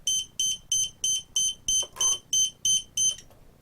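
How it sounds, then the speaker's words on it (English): A Spektrum RC transmitter signal fade alarm beeps in a steady run of about ten short, shrill tones, evenly spaced and loud, with a brief clatter in the middle. "what you heard was the alarm on the transmitter saying that we had gotten a"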